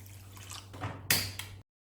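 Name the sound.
water being poured into a pan for sugar syrup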